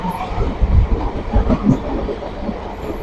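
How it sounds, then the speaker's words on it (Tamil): Train rumbling along as it slows near a railway station on a rocky mountain line, a steady low rolling noise with soft wheel clatter and thumps, close and continuous, no talking. "ரயில் ஸ்லோவாகுது."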